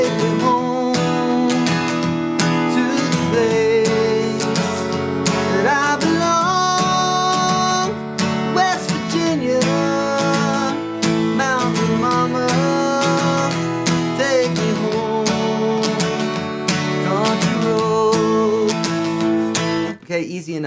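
Acoustic guitar strums the chorus of a song in a steady rhythm, bright and close, played continuously for about twenty seconds.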